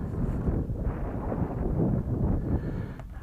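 Wind gusts buffet the microphone outdoors at a model airplane flying field, a loud continuous low rumble that surges and eases with no voices over it.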